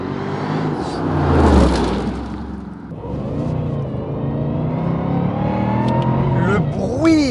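A supercharged Mercedes-Benz SLR McLaren engine revs hard and then drops to a steadier drone with a rising whine. Someone talks over it from close by.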